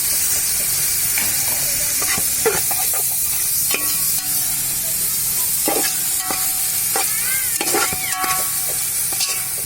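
Masala and tomatoes fry in a pan over a village stove for Arabian chicken kabsa, a loud continuous sizzle punctuated by frequent clinks and scrapes of a spoon stirring against the pan, with no talking.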